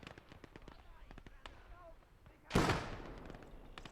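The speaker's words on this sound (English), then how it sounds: "I didn't realize that this was actually a smoke nade" In the World War II video game Gates of Hell, a smoke grenade bursts with one sharp, close hiss-pop that trails into fading noise, set against faint background game sounds and scattered clicks.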